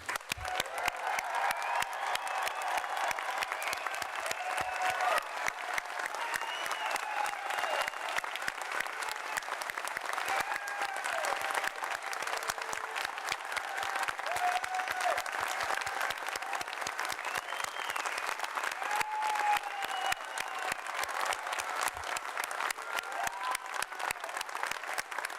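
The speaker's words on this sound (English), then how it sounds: "try to lift the roof off this place with one more rousing cheer for the class of 2023" A graduation ceremony crowd at Ulster University in Derry applauds and cheers for the class of 2023, dense continuous clapping with scattered whoops lasting the whole stretch.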